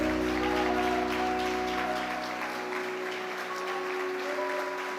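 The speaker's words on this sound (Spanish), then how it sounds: "¿Puede darle palmas al Rey?" Church congregation applauding steadily over sustained organ or keyboard chords that hold throughout, the clapping dense and continuous from start to finish.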